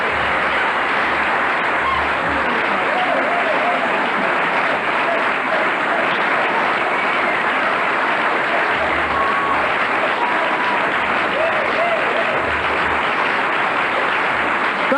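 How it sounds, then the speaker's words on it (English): Long, sustained audience applause at a political speech, a dense, even roar of clapping that continues unbroken at steady loudness throughout. "listen to how long that applause goes on"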